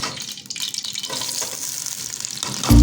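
Chopped onions frying in a pan while cooking white chana, giving a steady broadband sizzle and hiss that runs throughout, ending in a sudden loud clatter.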